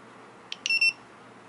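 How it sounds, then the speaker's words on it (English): A ViFLY Beacon drone buzzer gives two quiet, short beeps close together, each a thin high electronic tone, the second slightly longer, against a faint background hiss. "they got the flashing light and the two beeps"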